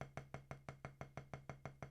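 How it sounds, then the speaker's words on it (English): Light finger taps on a drum repeat in a steady, even rhythm, roughly eleven strokes in two seconds, each a soft close hit with a brief low ring that fades quickly, heard alone. "if you use just your fingers on this, you'll hear a lighter sound."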